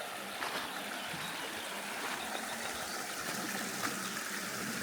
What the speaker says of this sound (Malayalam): അതേപോലെ ചെറിയ അരുവിയൊക്കെ ഉണ്ട് ഇവിടെ